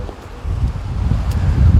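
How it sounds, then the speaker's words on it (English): Strong wind gusts buffet the area, a low rumbling roar with rustling that builds toward the end. "No, seriously, it's windy. Look at the trees, they're struggling just to stand up straight."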